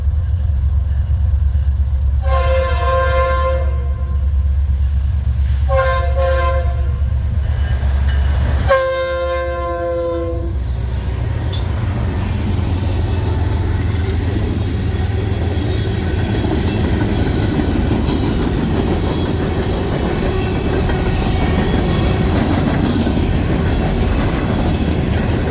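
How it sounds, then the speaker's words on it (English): Freight train led by SD60 6957 with CSXT 7518 still in Pan Am Railway paint and ES44DC 7584, on the D&H: three loud horn blasts over a steady, heavy engine rumble, then continuous rolling wheel noise as the train passes close. "Here is SD60 6957 leading CSXT 7518 still in its Pan Am Railway scheme, and ES44 DC 7584 on another 11R."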